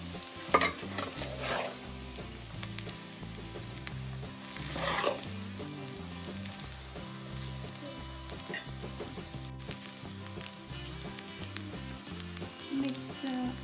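Rice being sautéed and stirred in a pan for coriander rice: a steady sizzle with repeated scraping strokes, louder bursts near the start and again around five seconds, no talking.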